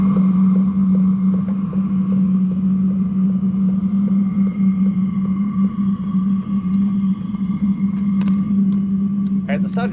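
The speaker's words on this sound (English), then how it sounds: "the sound you're hearing, other than the ticking, is a fuel pump" A diesel heater's fuel pump runs with no exhaust fitted in a van, giving a steady low hum with a regular faint ticking layered over it throughout.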